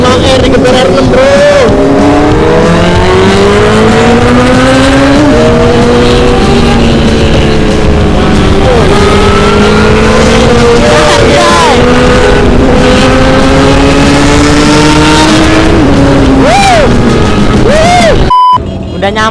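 A Yamaha R6 sport motorcycle is revved hard at close range, its high-pitched engine note climbing and falling repeatedly in loud sweeps for nearly twenty seconds, with a few other bikes and voices mixed in behind.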